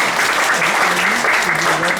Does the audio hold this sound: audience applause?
yes